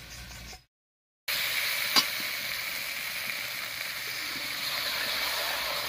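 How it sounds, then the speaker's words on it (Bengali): Sweet pumpkin pieces frying with spices in a pan: a steady, close sizzle that cuts out briefly near the start, then returns and holds evenly, with no talking. "মশলার সঙ্গে একটু কষিয়ে নেব"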